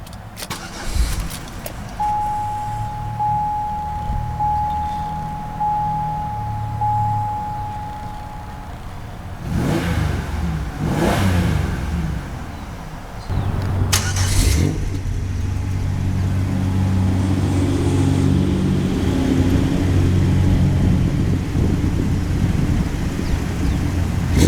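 A 2004 Buick Rendezvous CXL engine is started with a brief cranking burst, then idles and revs up in loud swells, settling into a steady, rumbling run close by, with a thin whine early on and no talk.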